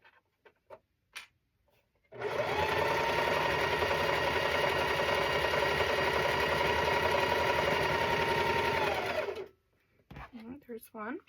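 Sewing machine chain stitching a quilt block runs in one steady, loud burst of about seven seconds with a constant motor whine, with brief handling noises before and after and faint talk at the end.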